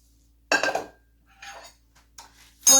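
Kitchen handling of a metal strainer and a medium saucepan: a few separate clanks and clinks of metal cookware, close and fairly loud, with quiet gaps between them.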